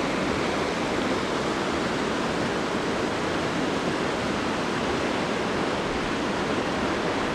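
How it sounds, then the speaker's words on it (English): A river rushes through a mountain town, a loud, constant roar of water with no pauses, heard close by. "And here's the river running away from us."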